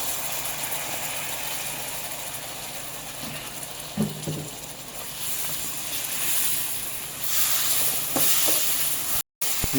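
Ground tomato juice tossed into hot oil for paneer butter masala, a steady hiss of sizzling with a few clattering stirs and spikes, louder bursts of frying toward the end before a brief cut-out.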